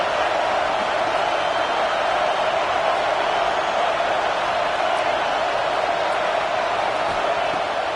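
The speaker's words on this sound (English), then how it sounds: "This crowd bringing the energy and noise early." Simulated stadium crowd in the College Football 26 video game on PS5 roars as a constant, dense wash of noise that stays at an even level with no breaks.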